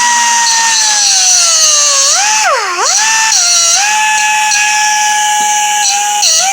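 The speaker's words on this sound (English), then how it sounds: "I'm going to cut off the back of these screws." A cutoff wheel grinding through the protruding backs of screws on a panel over a vinyl floor, a loud steady high whine that dips sharply in pitch mid-cut as it bites, then recovers.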